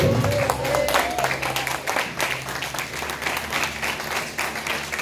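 A church congregation applauding during a sermon, with a steady wash of clapping mixed with crowd voices and some tonal sound underneath, loud and continuous throughout.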